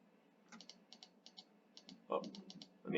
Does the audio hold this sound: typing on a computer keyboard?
yes